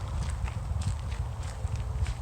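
Horse walking on a hard surface, with a short run of soft, irregular hoof clip-clops close by and faintly muffled.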